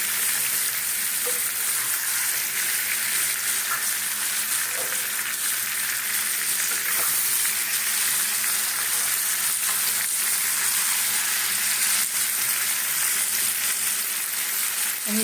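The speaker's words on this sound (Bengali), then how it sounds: "আমটাকে সুন্দর করে ভেজে নিতে হবে" Mango pieces fry in a pan with a continuous, even crackling sizzle, close and loud, broken by occasional light scrapes and clicks of stirring.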